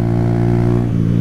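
A Honda CG 160 motorcycle engine hums steadily while being ridden, a loud, close, constant drone with a strong low tone and barely any change in pitch over the short moment.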